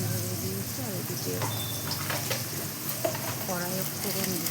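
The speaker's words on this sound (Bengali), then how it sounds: "কড়াইয়ে ফোড়ন দিচ্ছে" Bay leaf and five-spice seeds tempering in hot oil in a wok, a steady close sizzle with crackles, while a voice talks over it intermittently.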